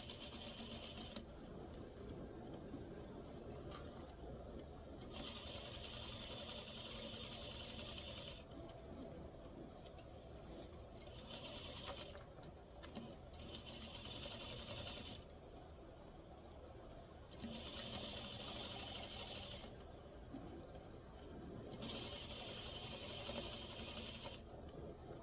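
Sewing machine stitching a yoke, running in steady whirring, rhythmic bursts of a few seconds each with short pauses between, close and fairly loud over a low hum.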